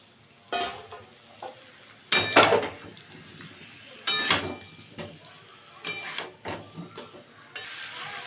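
Pumpkin pieces dropped into a pan with a fish head and stirred, producing several separate bursts of clattering, scraping utensil-on-pan noise at close range, with quiet gaps between them.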